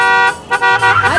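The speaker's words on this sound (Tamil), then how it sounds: "எதுக்கு ஹார்ன் அடிக்கிற" Car horn honking at a red traffic signal, a few short toots close by and loud, with a voice shouting in Tamil over it.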